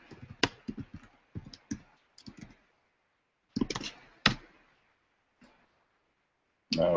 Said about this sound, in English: I'm going to type this in real quick.